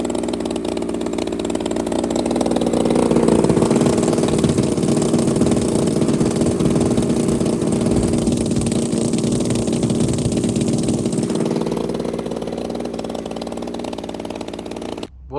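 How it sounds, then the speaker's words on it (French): A small petrol engine on an RC model runs steadily at high revs, a loud buzzing drone that holds for the whole stretch with slight rises and dips in pitch. "Le moteur tourne impeccable."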